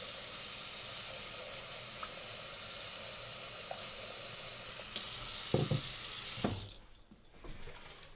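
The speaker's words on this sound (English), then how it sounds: "You're gonna fill it with cold water." A kitchen tap runs cold water into a bowl of blackberries, a steady hiss of pouring water that grows brighter and louder partway through, then stops with a few soft clunks.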